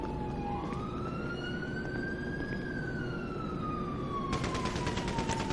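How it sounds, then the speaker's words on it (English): A police car siren in the GTA Online video game wails, rising and falling steadily, moderately distant, over a constant rumbling background of engine noise. "Or police car or something. Yeah. With sirens."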